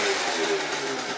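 A 70cc Yamaha BWS scooter engine revs hard and close, a loud buzzing mid-pitched roar that wavers as the throttle is held for a wheelie.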